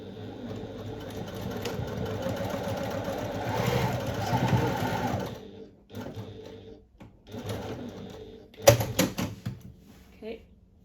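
A home sewing machine stitching a seam of about 0.5 cm allowance, humming steadily for roughly five seconds, then stopping and starting in short bursts with pauses.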